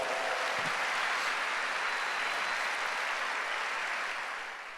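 Church congregation clapping for the Lord at a church congress, a dense, even wash of applause from a large crowd that holds steady, then begins to taper near the end.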